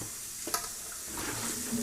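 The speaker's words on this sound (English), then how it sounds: "We can just go ahead and fry it up some more." Food fries in a cast iron skillet on an induction burner, giving a soft, steady sizzle at low level with a brief scrape or stir partway through.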